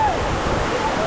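Can-umantad Falls, the tallest waterfall in Bohol, Philippines, a steady broadband rush of falling water, close and continuous, with a voice faintly over it.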